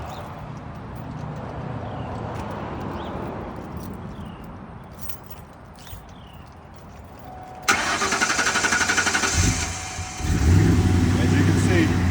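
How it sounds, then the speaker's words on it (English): A car with low fuel pressure from a failing fuel pump is cranked and catches midway, then runs loud and close with a rough, uneven idle, after a stretch of quieter background and small handling sounds. "I'm going to go over to the car and I'm going to fire it up"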